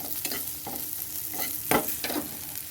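Bitter gourd (karela) frying in a pan, with soft stirring scrapes and a low sizzle coming in several short bursts close by, and no voices.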